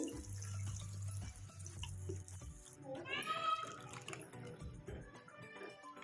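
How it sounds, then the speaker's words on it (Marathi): Water poured into a pan of kadhi made with ground spice paste and gram flour, heard as a close stream of splashing, trickling liquid, with a low hum at the start and a faint voice in the background. "थोडस पाणी टाकू"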